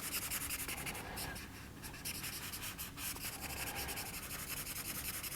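A 2B graphite pencil moves steadily across paper while a realistic water drop is drawn. It makes a continuous, close, soft scratchy rubbing with small shifts in stroke, and no voices are heard.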